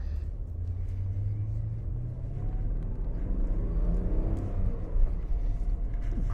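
A 2001 BMW M5 sedan with a manual transmission sits idling, and its engine gives a steady, deep low rumble that swells slightly as it is put into first gear. The sound is close and continuous, with no talking.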